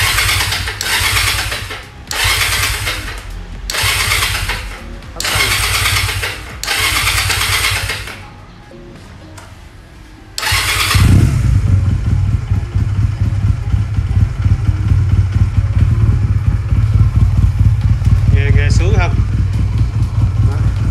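A Honda CD 125 Benly motorcycle engine, a collectible model from 1996 or 2000, cranks in several loud, repeated bursts separated by pauses, then fires up and settles into a steady, close, chugging idle.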